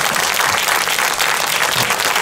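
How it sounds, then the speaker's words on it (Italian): An audience at an evening event on music beyond barriers applauds steadily and fairly loudly, a dense wash of many hands clapping with no voices over it. "Mi piace questo applauso."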